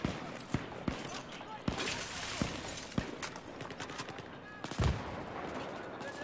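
Shotgun fire in Battlefield 3, a series of sharp loud blasts spaced roughly half a second to a second apart, mixed with other battle noise and talk.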